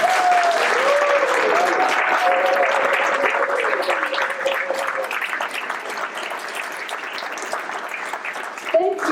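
Audience applause at a peace-action awards ceremony, a dense sustained wash of clapping that runs loud throughout and tapers slightly toward the end, with a faint sung or spoken tone threading underneath early on.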